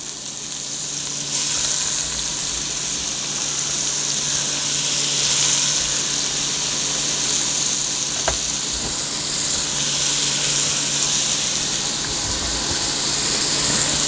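Onion hits hot oil in a pot that still holds seared pork juices and sizzles loudly and close. The sizzle rises sharply at the start, then holds as a steady, intense hiss with faint stirring, and no voice is heard.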